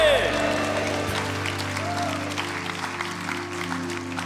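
A church congregation at a Sunday service claps in a broad, steady wash of applause over lingering sustained tones, fairly loud and continuous throughout.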